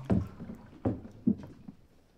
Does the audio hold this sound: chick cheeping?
no